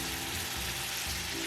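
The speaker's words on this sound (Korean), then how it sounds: "우삼겹 150에서 200g 볶아주세요." Thinly sliced beef brisket stir-fries in a pan with a dense, steady sizzle up close, loud and unbroken throughout with no voices.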